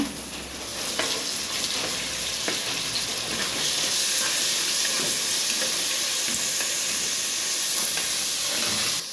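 Tomatoes hit hot oil with frying onions in a pan for a mushroom masala curry, giving a loud, steady sizzle and hiss that continues evenly throughout.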